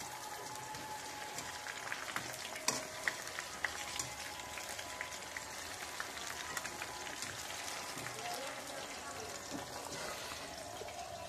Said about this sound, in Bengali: চাল কুমড়াও একসাথে ডিপ ফ্রাই করতে হবে আজকে